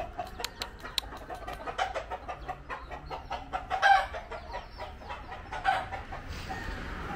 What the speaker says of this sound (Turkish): Burada tavuklar, horozlar.